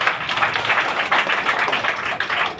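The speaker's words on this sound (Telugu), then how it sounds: "ఒకసారి గట్టిగా చప్పట్లు కొడతారు." A church congregation claps loudly together, a dense, steady wash of hand claps that runs unbroken and fairly close for a few seconds.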